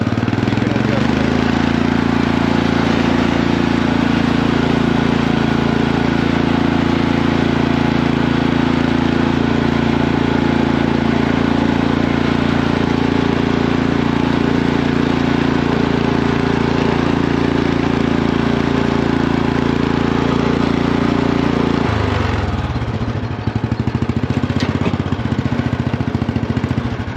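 A riding lawn mower's engine runs loud and steady as the machine pulls away after the clutch and brake are released, then drops off abruptly near the end, leaving a quieter idle.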